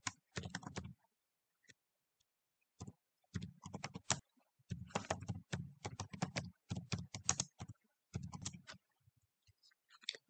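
Computer keyboard typing as a PDF file name is entered, short bursts of crisp key clicks separated by brief pauses, close and fairly quiet with no talking.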